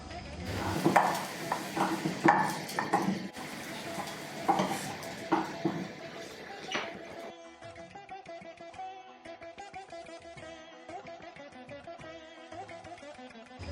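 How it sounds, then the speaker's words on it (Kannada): Garlic frying in ghee in a pan: clattering stirring and utensil knocks up front, then a softer sizzle under a steady tonal background. "ಬೆಳ್ಳುಳ್ಳಿ ಕೂಡ ಚೆನ್ನಾಗಿ ಹುರಿದಿದೆ"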